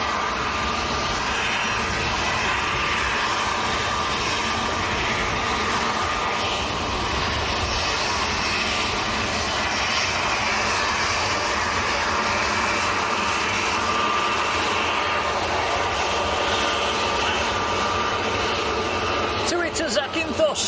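A passenger airliner lines up on the runway at Manchester Airport, its engines giving a steady, continuous roar at moderate distance throughout, with a voice talking over it.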